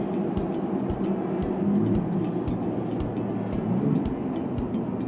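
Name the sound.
2023 Ford Bronco Raptor engine downshifting in sport mode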